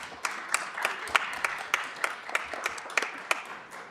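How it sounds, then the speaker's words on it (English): Sparse applause from a council chamber audience at a city council meeting, a scattering of separate hand claps rather than a full ovation, moderately faint and heard alone without talk. "Let's give them another big round of applause."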